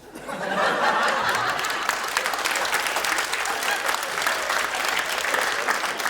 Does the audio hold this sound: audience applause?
yes